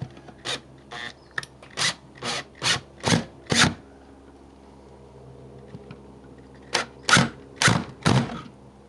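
A motion-sensor security light fixture is screwed back onto its mount with a series of short rasping turns. About eight close strokes come in two bursts separated by a quiet pause.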